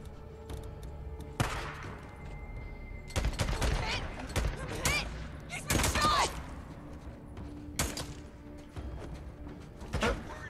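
Gunfire in the video game Days Gone, scattered loud bursts of shots with pauses between them and mechanical clicks, a voice speaking in between.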